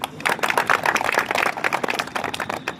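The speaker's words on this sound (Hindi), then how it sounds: "एक बार युद्धि भाई के सम्मान में सभी तालियां बजाएं।" A crowd of young people at a political rally in India claps together in a dense, fairly loud burst of clapping that rises and dips unevenly, with no speech over it.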